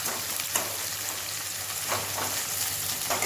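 Tomatoes and tempering for rasam sautéing in a pan, a steady close sizzle with a few stirring scrapes breaking through, no voices.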